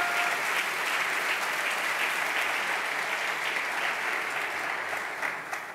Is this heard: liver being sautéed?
no